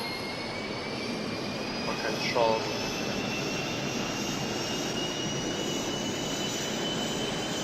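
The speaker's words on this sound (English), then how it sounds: "So when you turn on your engine," A jet aircraft engine in the video game Neo Warfare spools up into a steady, loud whine and rumble that runs throughout, with a voice speaking briefly over it.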